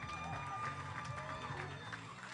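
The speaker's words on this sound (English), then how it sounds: "Big round of applause for Jonathan Garcia." Audience at a powerlifting competition applauds steadily, a dense wash of clapping and crowd noise at moderate distance that runs through the whole moment without pause.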